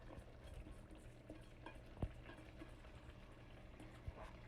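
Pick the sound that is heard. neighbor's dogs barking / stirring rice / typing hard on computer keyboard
stirring rice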